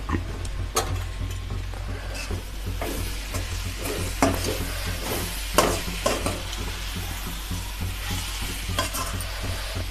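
A curry with freshly added coriander is stirred in a pan, giving close, repeated spoon scrapes and wet sloshing over a steady background sizzle.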